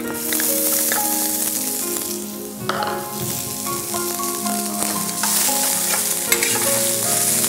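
Chopped garlic and onion fry lightly in oil for stuffed tomatoes, sending up a continuous bright sizzle with clattering stirs and scrapes against the pan, close and loud throughout, with no voices.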